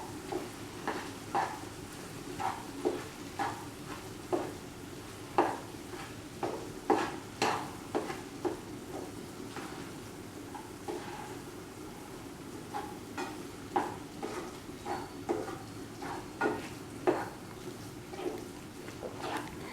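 Tomato rice being stirred in a pan, with a steady series of soft scraping and tapping strokes of the spoon over a low background hiss, moderately close and fairly quiet.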